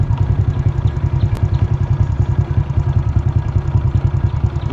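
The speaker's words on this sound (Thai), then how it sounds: "ฝั่งนั้นมีบางเสียงเรือกำลังดูดทรายอยู่" A sand dredging boat's engine chugs steadily on a river along the Thai–Lao border near Nong Khai, a low, rhythmic mid-pitched idle that holds evenly throughout with no voices.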